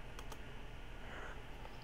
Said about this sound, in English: I gotta stop typing